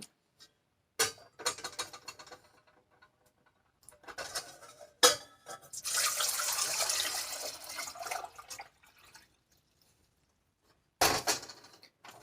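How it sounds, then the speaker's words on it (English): Two quarts of water splash and rush into a metal saucepan for a few seconds, framed by clanks of cookware being handled before and after. "we have 2 quarts of water that we are going to put in a saucepan"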